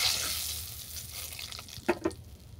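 Salt and turmeric are stirred into hot oil in a pan, giving a soft, low sizzle with a couple of light scraping clicks near the end, quiet and close.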